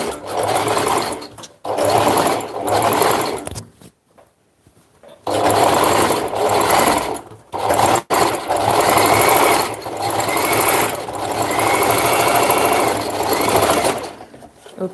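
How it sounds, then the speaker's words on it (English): A sewing machine runs in long bursts restitching fabric to make it tight, with short pauses between runs and steady close mechanical whirring throughout. "I'm just going to go ahead and restitch again on it"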